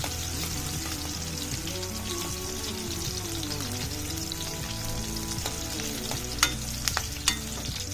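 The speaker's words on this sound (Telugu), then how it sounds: "ఉల్లిపాయ ముక్కలు వేగుతున్నాయి" Chopped onions frying in oil for methi dal are stirred in a pan, with a soft steady sizzle and bubbling under the scraping of a spoon and a few sharp metallic taps toward the end.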